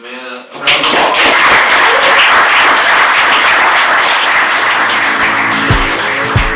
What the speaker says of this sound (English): if everybody could give the man a round of applause